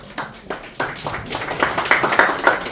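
A church congregation at a special worship service breaks into scattered, uneven hand clapping that builds and grows denser over a few seconds, heard from within the room.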